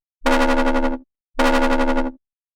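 Foghorn sound synthesized in Xfer Serum from a triangle oscillator, sounding twice as loud sustained horn blasts of about a second each, separated by a short gap, with no talking.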